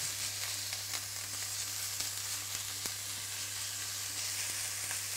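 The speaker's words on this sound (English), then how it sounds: "So I'll spread that across the pan, get it started cooking, and I want that on a medium heat." Minced turkey sizzles steadily in a pan over medium heat, a constant close frying hiss with a low hum underneath and a few faint stirring ticks, with no voices.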